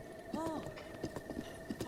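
Horse hooves clip-clop in The Legend of Zelda: Breath of the Wild, several uneven hoof falls over steady game music, with someone speaking French under them.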